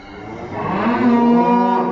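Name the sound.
Belgian Blue suckler cow mooing on a farm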